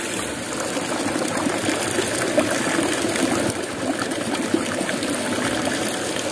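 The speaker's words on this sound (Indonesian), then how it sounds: "Kita buang airnya dulu." Water is poured out of a used plastic bottle trap set for mountain shrimp, making a steady, close splashing gush that runs without a break.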